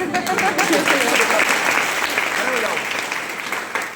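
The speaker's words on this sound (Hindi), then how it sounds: "एक बार गोविंद सर की तालियां बजाओ" Loud, close applause from an audience at an event, clapped for Govind sir, a dense burst of clapping that gradually tapers off, with voices faintly underneath.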